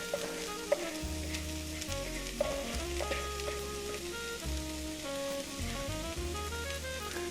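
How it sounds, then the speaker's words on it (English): Chopped onions sizzle and crackle steadily in oil in a pan, a soft continuous frying hiss under a backdrop of steady music. "sauteing onions on a pan, especially with some oil in there"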